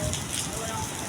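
Steady heavy rain pours down in a dense, continuous hiss close by, with no break in the downpour.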